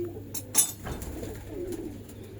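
Pigeons coo softly in a loft setting, low murmuring calls with a couple of brief wing flutters or clicks, close and quiet.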